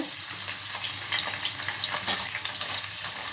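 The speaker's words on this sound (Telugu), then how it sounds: "ఇక ములక్కాయలు వేసి ఒక 2 నిమిషాలు ఫ్రై చేసుకుంటే మంచిగా ఉంటాయి ములక్కాయలు." Drumstick pieces frying in hot oil, a steady close sizzle with occasional stirring scrapes throughout.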